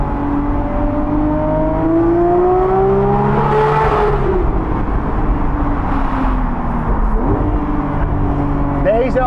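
A Porsche 911 engine revs toward 9000 rpm inside a short tunnel, loud and close, its rising and falling harmonic wail sweeping up and down as the sound reverberates off the walls.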